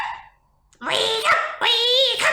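A human voice imitates a dog barking for a children's story, with a short yelp, a pause, then two drawn-out, voiced barks, loud and close.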